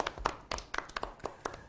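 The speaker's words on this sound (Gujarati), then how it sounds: "તાળીઓ વગાડશું" A classroom claps together for the winner of a game round, a quick run of about eight separate, evenly spaced claps that sound close and light, with no talking over them.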